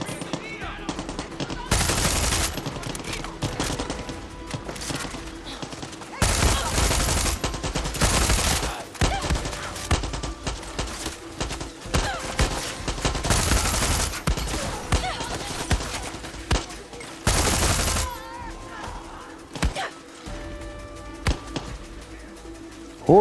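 Bursts of automatic gunfire in Far Cry 6, loud rapid volleys recurring in clusters between quieter stretches of battle noise, close and harsh.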